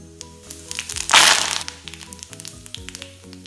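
Fennel seeds and curry leaves dropped into hot oil, a sudden loud burst of crackling and spitting that peaks for about half a second, then settles into scattered pops.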